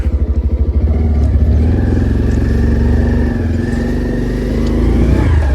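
A motorbike rides out toward the farm fields, its engine putting loudly and close at idle before settling into a steady running drone throughout.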